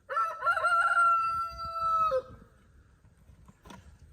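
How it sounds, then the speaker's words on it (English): Rooster crowing near a chicken coop where hens are kept: a single loud, close cock-a-doodle-doo lasting about two seconds, followed by quiet ambience and a brief faint click. "Before we build the rooster retirement home, we have to move Nemo and the hens"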